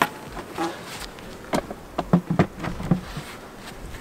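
Bees buzz steadily around a hive, up close, with scattered wooden knocks and taps mixed into the humming drone.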